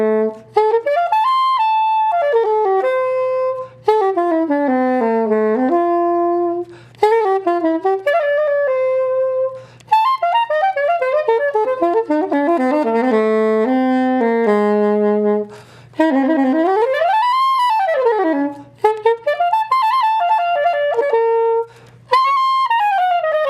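A saxophone mouthpiece and reed fitted on the bare neck, played alone as a loud, reedy, buzzing tone with wide pitch sweeps and slides, broken into several phrases with short pauses between.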